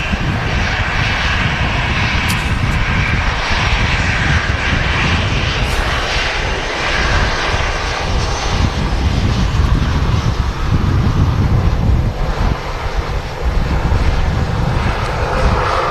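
An easyJet Airbus A319 airliner at Manchester Airport gives a loud, steady engine roar that stays close and constant throughout, with no talking.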